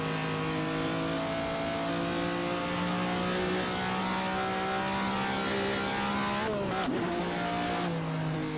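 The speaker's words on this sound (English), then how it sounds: "it's got some kind of funny sound it makes when you shift gears." A 1962 Ferrari 250 GTO engine drones steadily at high revs in the Assetto Corsa racing game, then near the end a gear shift briefly breaks the tone with a pitch drop and a quick change before the engine pulls on.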